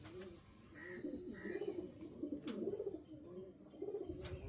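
Malwai baby pigeons coo in soft, repeated rolling calls that rise and fall in short phrases, close and steady, with faint chirps and background noise around them.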